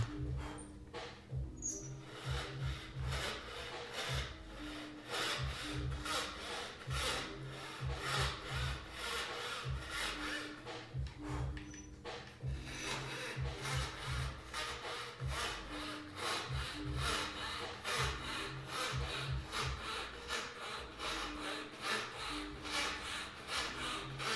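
A hand saw cuts marquetry veneer for furniture work close to the blade, a steady run of quick rasping back-and-forth strokes that continue without pause at close range.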